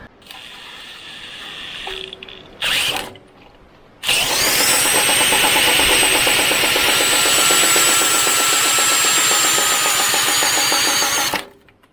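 An impact driver spins the shaft of a Chinese Wolf 5 kVA petrol generator with a Honda GX390-clone engine: after brief clicks and a short burst, a loud rapid ratcheting hammer and whirring drone runs for about eight seconds, then cuts off.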